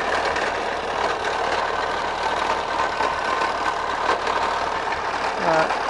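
A 1952 Minerva 4x4 with a repaired carburetor idles steadily nearby, a continuous even engine rumble that holds for the whole stretch, with a voice speaking over it.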